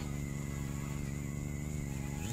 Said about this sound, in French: Moteur activé.